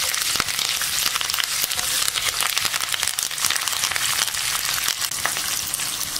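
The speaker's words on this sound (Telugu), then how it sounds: "వీటన్నిటిని కూడా ఇప్పుడు వేగనివ్వాలి." Mustard seeds, lentils and other whole spices sizzle and crackle hard in hot oil for a tempering, a dense, continuous frying hiss with sharp little pops throughout and no voices.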